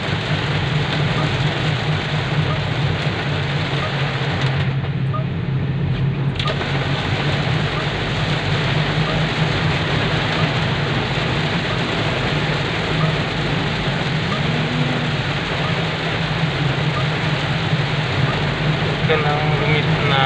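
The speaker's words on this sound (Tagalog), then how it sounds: "sa lakas ng ulan" Steady, dense rain hiss with a constant low rumble underneath, like heavy rain drumming on a vehicle roof while driving; no voices stand out.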